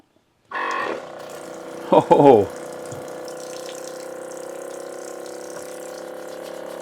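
Water streams from a rechargeable USB-powered faucet into a sink, starting with a short burst, then a steady even flow that runs on alone after a brief louder splash.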